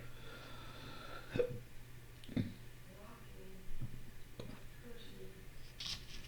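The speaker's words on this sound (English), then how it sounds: "I've been having hiccups." Someone hiccups several times, sharp short catches of breath spaced a second or so apart, close and fairly quiet against a faint steady hum.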